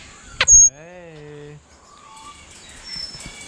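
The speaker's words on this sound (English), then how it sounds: "We've got lots of different parrots." Various parrots call in a sequence of tonal whistles and harsh squawks, with one loud shriek near the start, followed by softer chirps and calls against an outdoor background.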